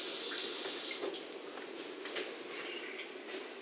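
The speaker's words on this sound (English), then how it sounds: "We have running water" Tap water runs steadily into a sink in an off-grid shipping container home, a soft continuous splashing stream heard close with no talk.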